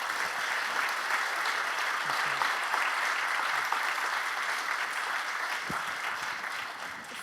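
An audience at a science medal ceremony and lecture gives sustained, steady applause, a dense even wash of clapping that fills the hall for about seven seconds without letup.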